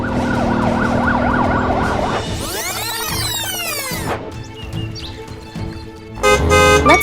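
A toy LEGO ambulance siren wails, rising and falling in sweeping tones at a car accident scene, joined by horn toots near the end; loud and close, with no talking.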